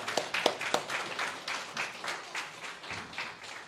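Scattered, fairly quiet clapping from family and friends at a community college graduation ceremony, individual claps standing out in an uneven rhythm with no voices on top.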